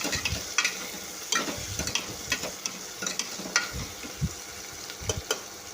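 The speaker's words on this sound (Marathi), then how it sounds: "आता कांदा टाकलेला आहे एक आणि बारीक चिरून घेतलेला होता छान परतून घ्यायचं" Finely chopped onion sautéing in a pressure cooker for sambar, a continuous sizzle broken by repeated scraping and stirring strokes against the metal pot.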